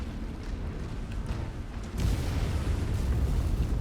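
A reserve generator blows up in MechWarrior 5: Mercenaries, a dense rumbling explosion that swells sharply midway and keeps roaring steadily to the end, with no voices.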